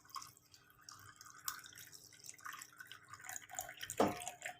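Quiet trickling water poured into a glass over ice cubes, with a short splash toward the end, heard alone in a still room.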